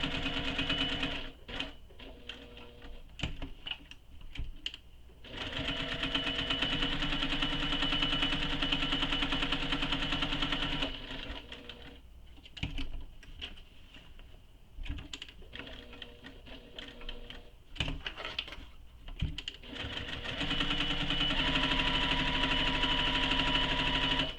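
A sewing machine runs in long continuous bursts, stitching along the bottom of a fabric tote bag, with short pauses between runs and a rapid mechanical whir throughout; no voices.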